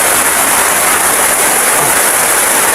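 Dense, steady hiss of heavy rain pouring without a break, loud and close, with no voices.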